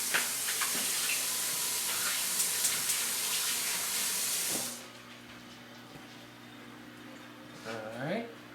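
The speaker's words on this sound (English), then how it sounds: "just get my hands clean a little bit" Hands being rinsed under a running kitchen tap while making Salisbury steak patties: a steady hiss of flowing water for several seconds cuts off abruptly, followed by quieter room sound and faint movement.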